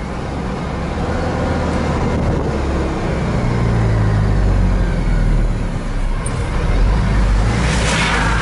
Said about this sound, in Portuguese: Olha o freio motor.